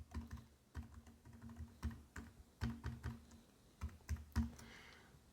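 A password is typed on a computer keyboard: close, crisp key clicks come in uneven little runs with short pauses and a few heavier thumps, and nobody speaks.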